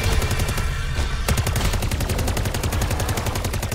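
Rapid automatic gunfire in the MW3 Zombies video game, a continuous loud burst of evenly spaced shots with a brief gap before firing resumes, no talking.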